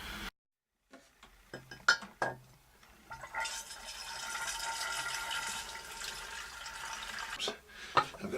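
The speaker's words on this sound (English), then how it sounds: "I've got a siphon going on." Liquid trickles steadily through a siphon between homebrew kegs, a soft continuous flow that follows a few clinks and knocks of handling and ends with a faint click. It is quiet and close, with no talking.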